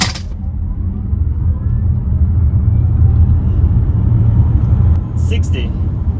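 A Hyundai Ioniq 5 electric car in sport mode launches from a stop sign to 60 mph, giving a steady, loud low rumble of road and motor noise that barely changes, with a few faint clicks near the end.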